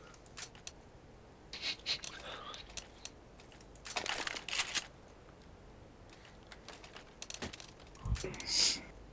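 Keyboard typing in a CS:GO match, bursts of quick clacking keystrokes scattered across the clip at close range and moderate volume, with gameplay noise in the background.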